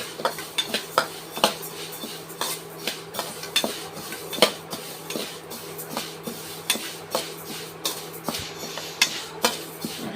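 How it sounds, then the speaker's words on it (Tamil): Black urad dal being dry-roasted in a pan for idli podi, with a spatula scraping and clinking against the metal in a steady rhythm of sharp strokes, close and fairly loud, with no voices. "நல்ல மனம் வரும் பார்த்துக்கோங்க உளுந்து மனம் வரும் அது வரைக்கும் வறுத்துக்கோங்க"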